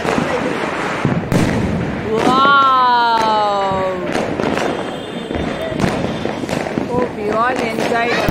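Diwali firecrackers crack and bang repeatedly, loud and near, with whistling rocket streaks sliding through the middle and end, as people talk and call out over the bursts.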